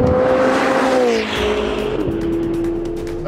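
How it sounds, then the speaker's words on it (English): A Ferrari supercar drives hard on a Las Vegas track, its engine loud and close, revving up through gear changes with a rising and falling whine and a faint squeal of tires. "I'm driving a Ferrari on a work day"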